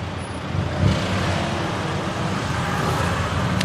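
A tuk-tuk engine is redlined the whole way through fast traffic in Thailand, giving a steady, loud roar mixed with wind and road noise. No speech breaks the noise.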